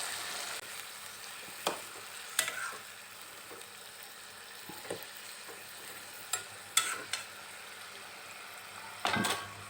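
Masala spices for chicken gravy fry in a pan with a little water, giving a quiet, steady sizzle broken by several sharp scrapes and clinks of stirring.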